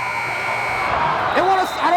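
A basketball game clock buzzer sounds at the end of a girls' high school district consolation semifinal between Hempfield and Manheim Township, a sustained steady tone droning under a noisy gym crowd while a commentator talks over it.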